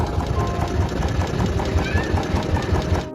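Royal Enfield Bullet Classic 350 single-cylinder motorcycle engine running close by during a periodic service, a steady loud thumping idle with a regular pulsing beat and faint talk beneath it.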